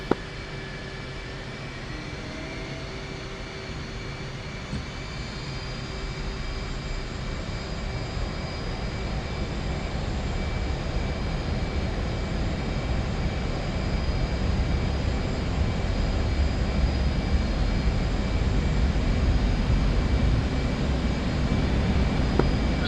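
An F/A-18C jet taxiing to the runway in DCS, a continuous engine whine and roar with steady high tones, gradually swelling a little louder over more than twenty seconds, unbroken and without talk.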